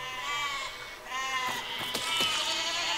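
Sheep in the video game Besiege bleat several times in a row, loud and close, with overlapping calls over a faint background hum.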